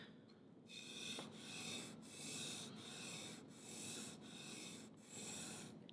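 A knife edge is drawn across a sharpening stone in a steady series of about seven rasping strokes, each a smooth gritty rub. The strokes are quiet and close, with no voices.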